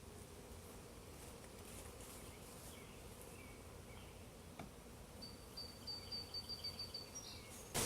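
A swarm of honey bees buzzes in a steady, dense drone close by in an apiary beside a nuc box, with no talking and a few soft thumps near the end.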